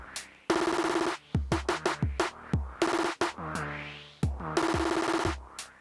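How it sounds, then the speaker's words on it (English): Snare drum from a DSI Tempest drum machine playing rolls and rapid repeated hits, bursts of noisy snare alternating with quick ratcheting strikes, punchy and close with no voice over it. "Snare drum, for example."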